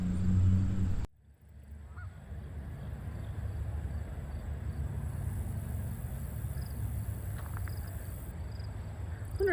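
Geese honking outdoors, a few scattered calls rising faintly from a steady wash of background noise after an abrupt cut from a louder rumble.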